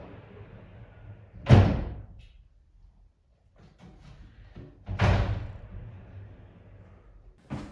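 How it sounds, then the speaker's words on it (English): A pocket door in a house under renovation rolls along its track and bangs home twice, each pass ending in a sharp thud a few seconds apart, with quiet scrapes and taps in between. "And we have a pocket door."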